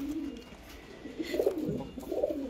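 Pet pigeons, including Saharanpuri and Teddy pairs, coo nearby in soft low rolling phrases, a few throaty coos rising toward the end over a quiet background.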